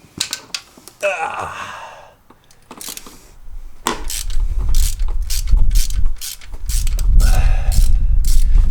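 Ratchet wrench working a bolt loose on the engine of a 1977 Toyota SR5 pickup during a teardown, giving bursts of quick mechanical clicks and clanks close by, with heavier clatter and handling noise in the second half.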